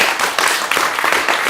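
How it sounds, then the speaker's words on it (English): A seated audience claps loudly together at a steady, dense pace, filling the room with applause close at hand, with no talk over it. "Clap again."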